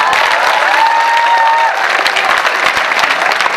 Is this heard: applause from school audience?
yes